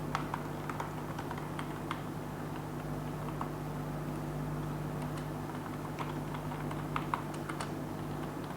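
Keys clack in quick irregular bursts on a computer keyboard as a command is typed, close and fairly quiet over a steady low room hum, with no talking.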